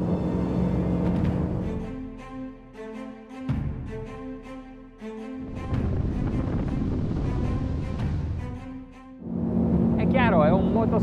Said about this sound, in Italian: È chiaro, è un motoscafo, è divertente da guidare.